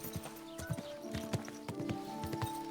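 Horse hooves clip-clop in a steady, fairly quick walking rhythm in Kingdom Come: Deliverance 2, close and clear over a low ambient hum with no talking.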